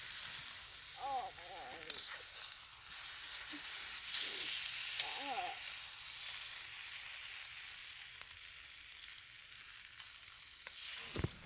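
Bacon frying over a camp stove outdoors, a steady close sizzle and hiss that runs throughout, with faint voices and high chirps heard briefly over it.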